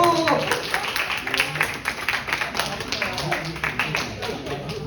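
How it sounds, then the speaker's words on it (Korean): Scattered clapping from a youth group at a church worship service, uneven and moderately loud, with voices talking over it. "박수!"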